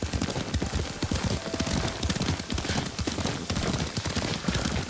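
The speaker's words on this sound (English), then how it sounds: "Lord Sakai taught me to ride a horse." Rapid clip-clop of horse hooves galloping steadily and close in the video game Ghost of Tsushima, a dense rhythmic pounding that continues throughout without pause.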